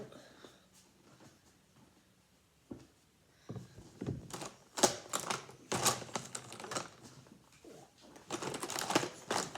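Scissors snip through paper while cutting out an origami watermelon, a series of quiet irregular crisp clicks and rustles, close and soft in a quiet room.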